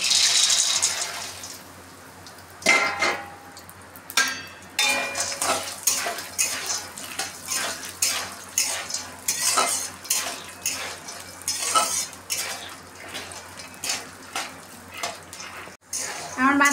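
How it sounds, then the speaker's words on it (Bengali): Peanuts fry in hot oil in a kadai, a soft sizzle broken by repeated metallic scrapes and clinks of a spatula stirring in an uneven rhythm, close and fairly loud. "এবার তেলের ভিতরে আমি বাদামগুলো দিয়ে ভেজে নেব"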